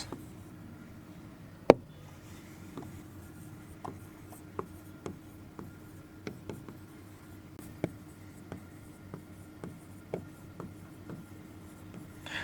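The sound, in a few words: writing an example sentence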